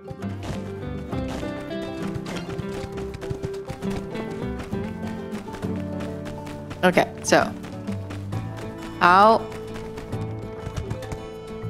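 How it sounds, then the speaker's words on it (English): Horse hooves clip-clop in quick steady taps in My Time at Sandrock, close and continuous under a speaking voice, with a few short louder sounds mixed in. "how do I make this horse stop following me?"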